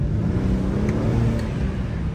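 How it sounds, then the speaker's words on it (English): A Mercedes-AMG accelerates through a city parking deck at night, its engine drone loud and close with a faint turbo whistle over the top. "But this turbo whistle is nasty."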